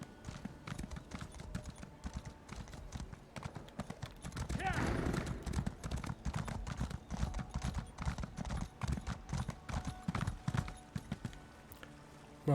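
Horse hooves clip-clop steadily in Elder Scrolls Online's Elsweyr, with a whinny or neigh around the midpoint, set against game music and ambience.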